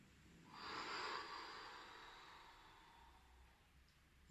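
One long, soft breath drawn in through the nose during a mobility exercise on a ball, close and hushed, slowly fading over a few seconds.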